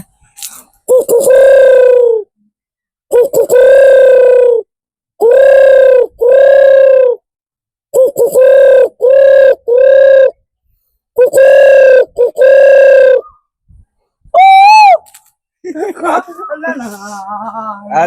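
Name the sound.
dove call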